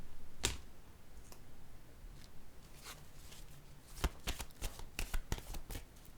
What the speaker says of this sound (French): je vais piger une carte pour ici